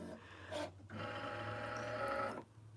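An embroidery machine runs in short continuous stretches of mechanical whirring and rapid stitching clatter, moderately loud and close, with brief pauses between runs and no talk.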